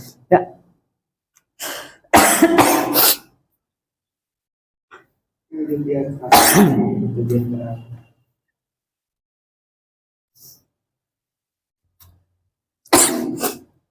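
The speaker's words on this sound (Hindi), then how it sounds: "खांसी ज्यादा आ गई है" Several bursts of harsh coughing spaced across quiet stretches, close and loud, with a longer rasping fit in the middle.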